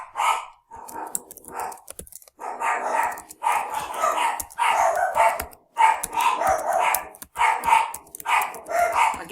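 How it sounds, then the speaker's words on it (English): Dogs bark repeatedly in a steady series of loud, fairly close barks, with faint keyboard typing in the background between them. "Sorry about the dogs."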